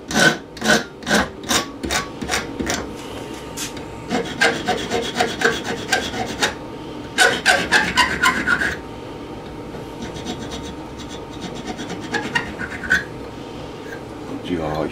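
A hand file rasps back and forth on a metal bracket in rhythmic strokes, bursts of scraping with short pauses between, close by, while a person talks over it.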